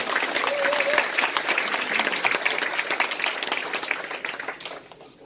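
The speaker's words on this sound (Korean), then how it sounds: "박수 한번 주실까요, 그냥?" An audience at a talk gives a round of clapping, full and busy at first, then thinning out and fading away over about five seconds.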